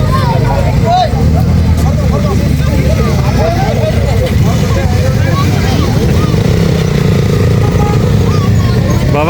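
A motorcycle engine drones loudly and steadily as a bike ride gets underway, a constant low rumble under a voice talking throughout.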